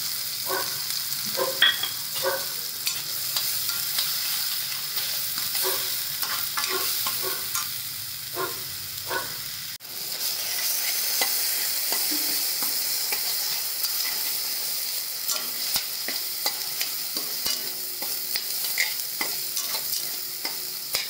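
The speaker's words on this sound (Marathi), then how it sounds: "याच्यामध्ये टोमॅटो एक चिरलेला तो टाकून देतो।" Chopped tomato frying with cowpea pods in oil in a pan, a steady sizzle with repeated stirring scrapes, louder clatter in the first half and a continuous hiss throughout.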